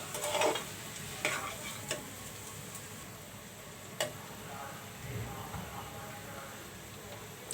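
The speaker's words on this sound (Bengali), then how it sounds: "আমি এখন সয়াবিনগুলো দিয়ে দেবো" Boiled soybeans tipped into a pan and stirred, giving faint, low scraping and gentle sizzling with a few sharp clicks of the spoon against the pan, quiet and fairly close.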